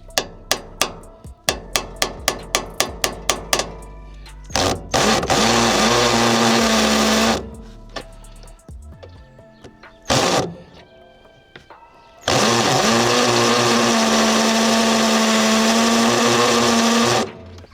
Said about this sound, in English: I was drilling it and nothing was happening.